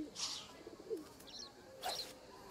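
Feral pigeon cooing in the wildlife game Alba: A Wildlife Adventure, a few soft, faint calls spaced across a quiet outdoor ambience with light chirps.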